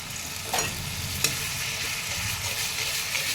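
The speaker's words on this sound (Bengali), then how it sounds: "এবার আমি মশলাটা ভালো করে একটু কষিয়ে নেব।" Spice paste with turmeric and tomato purée frying in a pan for a vegetarian banana-flower kofta curry, a steady close sizzle broken by a couple of sharp scraping stirs, with no voices.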